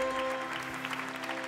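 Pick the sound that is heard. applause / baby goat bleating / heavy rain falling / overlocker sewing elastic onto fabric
applause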